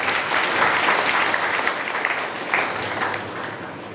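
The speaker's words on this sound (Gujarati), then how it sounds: "આપણે તાળીઓ પાડી પ્રભુનો આભાર માનીએ" A congregation at a Saturday prayer service claps together in thanks, a full, close roomful of applause that stays steady and strong for about four seconds with slight swells.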